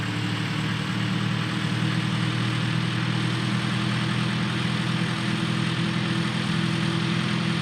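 A heavy vehicle engine runs with a constant, loud, low rumbling drone and a broad hiss on top, steady throughout with no speech.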